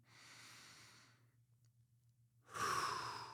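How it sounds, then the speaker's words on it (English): Slow, deep breaths drawn during a guided meditation, one long soft exhale followed by a brief quiet pause and then a stronger, close inhalation, with a steady low hum underneath. "I want you to take a deep breath in."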